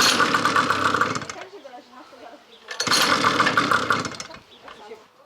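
A Leonart Daytona 125 motorcycle engine idles with a rough, rattling clatter, loud and close in two bursts separated by a quieter lull.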